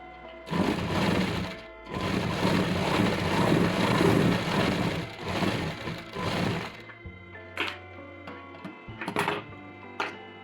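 A sewing machine runs in a long steady burst of stitching along the folded edge of blouse fabric, then stops, followed by a few short bursts and clicks as the work is adjusted.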